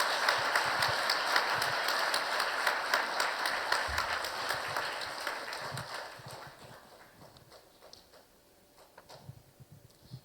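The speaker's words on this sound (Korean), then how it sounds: "두 분이 인사하고 들어가실 때 큰 박수로 축하해 주시기 바랍니다." Church congregation applauding at a Korean Methodist Sunday service, a brisk round of clapping that fades out toward the end, leaving only scattered claps.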